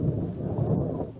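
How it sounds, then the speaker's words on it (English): A low, rolling rumble like distant thunder, used as a sound effect in a narrated children's story, a brief, dense, fairly soft roar with no voice over it. "They heard a rumbling like a distant thunder which grew nearer."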